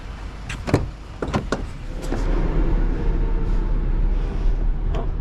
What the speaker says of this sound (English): Oh, there goes the garbage truck.